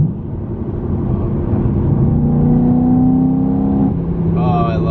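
A supercharged BMW E92 M3 making about 625 horsepower accelerates hard, its engine note rising steadily and loudly for several seconds before a gear change near the end, while voices talk over it.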